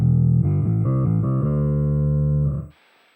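Electric guitar played through a bass machine octave pedal, producing deep, thick sub-octave notes in a short melodic phrase that rises and settles on a held note, clean and close, then stops with a faint hiss.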